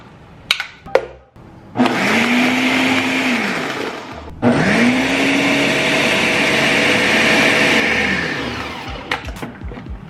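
A blender whirs a smoothie of pineapple juice, ice and flaxseed oil in two loud bursts, the motor dipping and rising each time, with clicks and handling noises before, between and after.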